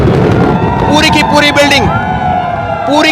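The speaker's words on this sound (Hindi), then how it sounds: "सायरन बज चुका है" Warning siren wailing outside the Noida Twin Towers ahead of their demolition, rising and falling tones sounding over a dense crowd-and-street roar, loud and continuous.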